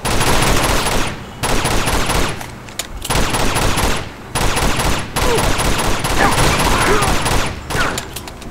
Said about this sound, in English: There's a machine gun over there.